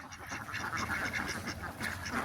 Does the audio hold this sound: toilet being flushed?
no